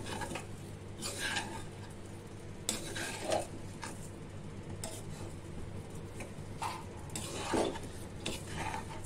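Sugar being stirred into zarda semai in a pot over low heat, with soft scraping and occasional utensil clinks against the pot at an even, unhurried pace.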